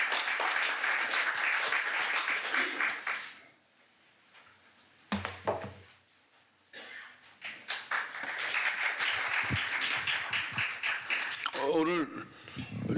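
At an academic forum, the audience gives sustained applause that fades into a quiet pause, followed by further bursts of clapping and scattered taps as a speaker is welcomed.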